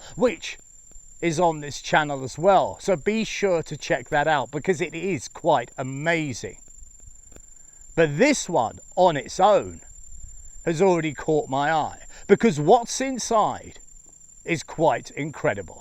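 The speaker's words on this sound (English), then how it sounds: "that shrill little sound you can hear in the background is in fact the insects" Shrill insects keep up a constant high, thin chirping tone around a forest temple, steady and faint in the background beneath someone talking throughout.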